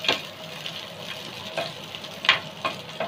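Garlic cloves sizzling in hot oil in a pan, with a steady close crackle broken by a few sharper spatters and stirring scrapes, no talk.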